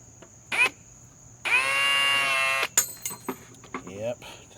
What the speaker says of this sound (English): let's see if we could drive some screws